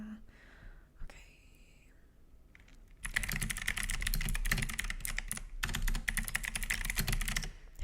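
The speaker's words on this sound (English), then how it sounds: "I personally love typing with it. This is a keyboard, a dream keyboard that I wanted for a really long time." Bursts of rapid typing on a prized computer keyboard, close and crisp, steady clattering keystrokes from about three seconds on after a quieter start with faint background sounds.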